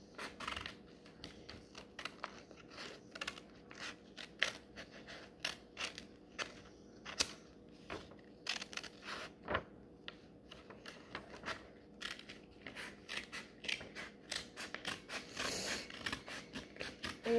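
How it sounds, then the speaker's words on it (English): Scissors snip through paper in a quiet room during a simple craft project, a long run of small crisp cuts in uneven rhythm, close and soft, with no talking. "Now, we're going to be cutting it with the scissors."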